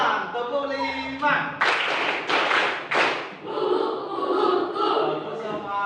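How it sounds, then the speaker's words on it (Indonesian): Classroom pupils repeat a rhythmic clap-five chant: voices first, then a run of about five loud, evenly spaced claps from the whole group, followed by more chanting and talk. "Ulang, tepuk 5."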